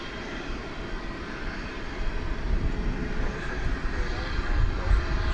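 A Boeing 777-200 airliner in oneworld livery at DFW Airport at night produces a low, rumbling jet roar that swells slightly toward the end, with a voice talking over it.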